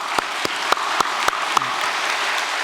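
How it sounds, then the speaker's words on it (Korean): Applause from an audience at a church anniversary celebration, heard as a steady wash of clapping with several sharper individual claps standing out in a loose rhythm, moderately loud and without voices. "박수 한번 보내겠습니다."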